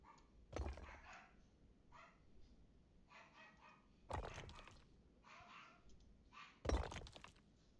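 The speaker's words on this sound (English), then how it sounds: "I don't know if you can hear my dogs, but they're going crazy." Dogs bark in three sharp, loud bursts spaced a few seconds apart, indoors and fairly close, with faint typing or clicking in the quiet stretches between.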